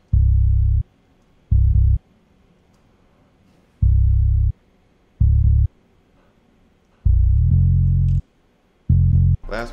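Distorted bass one-shots run through a Camel Crusher plugin on its More Beef preset in FL Studio, a series of heavy, booming low hits separated by silences, loud and alone.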